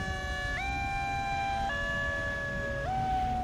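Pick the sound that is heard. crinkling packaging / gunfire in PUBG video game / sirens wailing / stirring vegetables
sirens wailing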